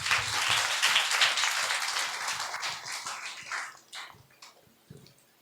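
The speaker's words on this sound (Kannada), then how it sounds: "ಕೈ ಗಟ್ಟಿಯಾಗಿ ಚಪ್ಪಾಳೆ ಹೊಡಿತೀರಾ?" Church congregation clapping hands together in a dense, loud burst of applause that gradually thins into a few scattered claps toward the end.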